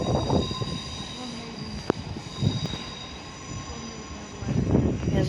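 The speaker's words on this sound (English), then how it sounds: "There's a 455 that's leaving." A Class 455 electric train departs London Waterloo on the South Western Main Line, a steady rumble of wheels and rail noise with a sharp click and faint squeal, loud and close, with brief voices between passes.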